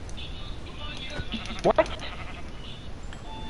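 Sheep bleating in a video game: a single short bleat stands out briefly in the middle over quiet background, with a person speaking nearby.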